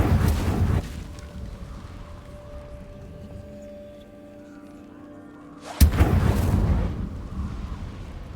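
Hogwarts Legacy's Incendio fire spell bursts out with a loud roaring whoosh, fading into a quiet stretch of low hum before another heavy blast erupts and rumbles on.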